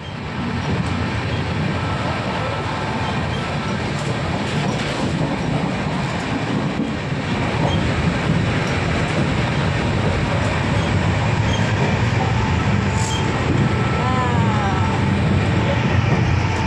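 A passenger train rolling toward New Jalpaiguri makes a loud, continuous rumble with rhythmic clatter of wheels on rails and a brief high whine near the end.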